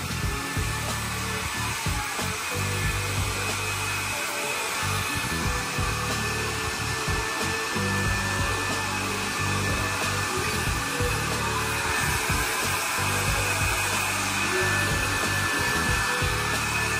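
A hair dryer blower runs steadily and loudly, a constant high whirring hiss with a faint tonal whine on top and small fluctuations, heard alone without talk.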